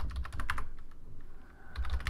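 Keystrokes on a computer keyboard while entering commands in a PuTTY SSH session, a quick close burst of clicks, a brief pause, then more typing, with no talking.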